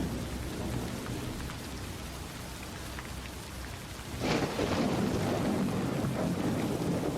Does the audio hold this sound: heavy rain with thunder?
yes